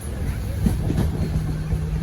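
A train rounds a sharp L-shaped curve through forested hill country, its steady loud rumble and rolling wheel noise carrying throughout with a low hum underneath.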